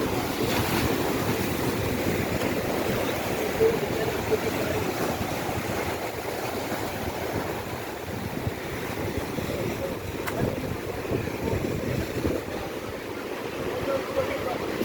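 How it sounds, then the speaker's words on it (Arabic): Steady surf washes in constantly with a rough, churning roar by Qaitbay Citadel in Alexandria, mixed with wind rushing across the microphone and a faint voice underneath. "البحر النهارده بص يا جماعة عالي بس جميل الصراحة"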